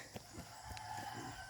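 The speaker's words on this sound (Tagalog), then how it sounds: "Yan ay mga manok." Chickens on a rural provincial farm cluck faintly in the distance, with soft, scattered calls over quiet background noise.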